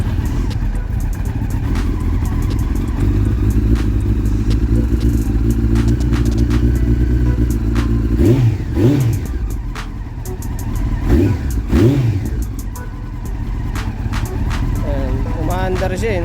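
A Honda CBR919 motorcycle engine with a carburetor fault running close by, a rough steady idle that swells with a few brief revs, while people talk over it.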